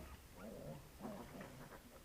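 Newborn piglets in a farm pen after a sow's farrowing, faint soft grunts and squeals repeating in short bursts, quiet and somewhat distant.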